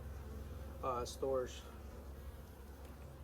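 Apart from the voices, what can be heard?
honey bees buzzing in an opened hive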